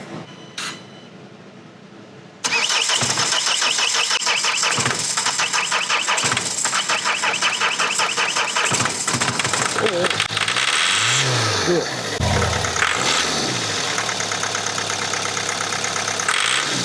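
A car engine cranks in cold winter weather after a battery charge, then catches into a loud, rough, rattling, grinding idle that keeps running steadily.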